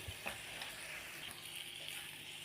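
Mutton pieces tossed with salt and chilli powder in a hot pan, giving a steady close sizzle with soft scraping stir strokes throughout, no voices.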